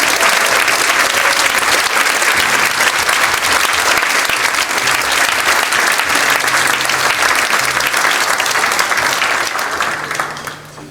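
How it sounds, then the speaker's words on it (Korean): Congregation applauding at a church inauguration ceremony in Daejeon, a loud, dense and sustained round of clapping lasting around ten seconds before quickly dying away. "다시 한번 한 분께 감사와 축하의 박수 드리겠습니다"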